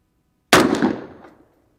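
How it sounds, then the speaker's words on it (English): A single loud, close rifle shot from a .224 Valkyrie fired at an outdoor range at 50 yards, with a sharp crack that fades over about a second. "Get the barrel hot. Shooting low at 50."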